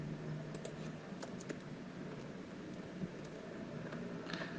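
Computer keyboard typing, soft scattered keystrokes in short bursts, close but quiet over a low steady room hum, no talking.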